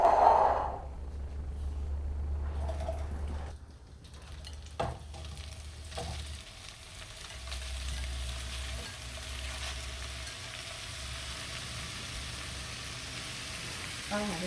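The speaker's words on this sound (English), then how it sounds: "I'm gonna go ahead and start browning the andouille" Andouille sausage browns in a pan on the stove for gumbo, giving a steady soft sizzle and frying hiss with occasional stirring scrapes, moderately close and without talk.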